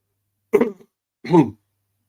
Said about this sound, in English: Sorry, guys, got to try and clear my throat